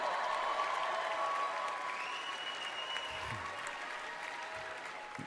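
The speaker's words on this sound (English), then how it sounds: "You clap for that." Applause rolls through a large arena crowd at the ESPYS sports awards show, a broad even wash of clapping that slowly fades, heard from a distance with no speech over it.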